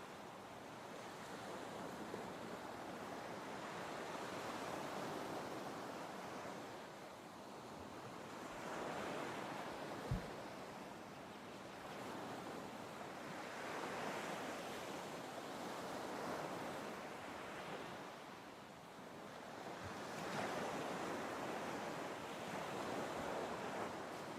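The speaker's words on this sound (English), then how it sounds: "Let your body surrender to the sound of ocean." Ocean surf rolls in slow, broad waves that swell and recede every few seconds, steady and soft, with wind noise and no voices.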